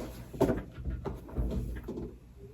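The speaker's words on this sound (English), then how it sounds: "I am about to look and see what I've got in my drawer for today." A desk drawer in a first-year teacher's classroom slides open with a few close, muffled knocks and a soft rolling rumble, alone with no talking.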